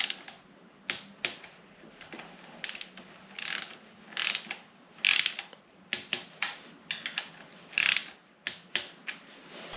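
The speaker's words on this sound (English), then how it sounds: "Now I'm just going to put the bolts in and torque them to spec." A ratchet wrench tightens clutch cover bolts on a Honda VFR800 motorcycle during a slipping-clutch repair, giving close, crisp bursts of rapid clicking in short irregular strokes with brief pauses between them and no talking.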